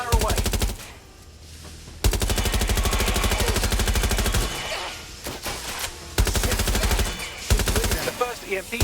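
Sustained rapid automatic gunfire fired at a boss in the Watch Dogs video game, loud and close, in long bursts with brief pauses between them.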